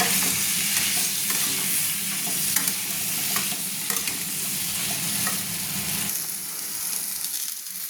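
Sliced papaya and potatoes fry in oil with salt and turmeric while being stirred, giving a dense, steady sizzle broken by repeated close scraping strokes of the spoon.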